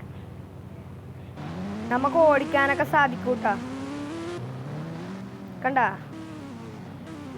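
A KGF bike engine in a video game revs and whines in rising sweeps, close and fairly loud, while someone talks over it.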